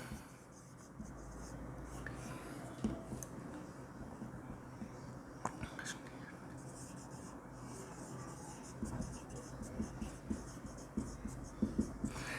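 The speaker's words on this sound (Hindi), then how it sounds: "यहां मैं लिख रहा हूं स्टेटमेंट" Pen writing a statement of profit by hand on paper, soft continuous scratching strokes with occasional taps, close and quiet, building slightly louder toward the end.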